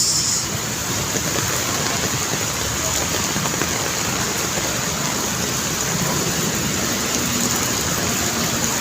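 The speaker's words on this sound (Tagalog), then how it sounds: "Masang ulan" Heavy early-morning rain in Pasay pours steadily and evenly throughout, a dense continuous hiss with no talking.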